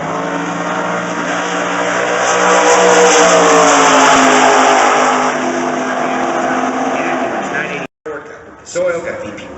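A 1963 Corvette drag race car, a Division 1 sportsman entry, roars loud and close with a rising rev through a long acceleration pull, then cuts off briefly and revs again at the end, with a commentator talking over it.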